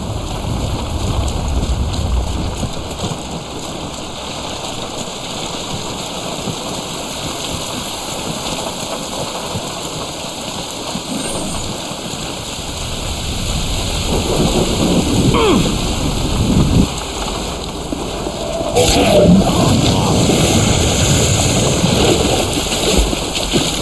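Pouring rain and rumbling thunder in The Bureau: XCOM Declassified video game, a loud continuous hiss of downpour with low thunder rolls swelling and fading, steady throughout with no talk.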